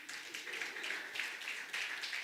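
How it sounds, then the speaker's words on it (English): An audience at a lecture and panel session claps in a faint, dense, steady patter that continues evenly throughout without any spoken voice. "please clap for me, clap for me"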